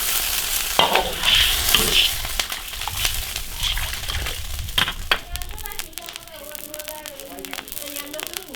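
Stir-frying in an iron wok with corn and ham sausage, a spatula scraping and clattering against the metal amid steady sizzling, then water is added and the frying quiets into a softer bubbling.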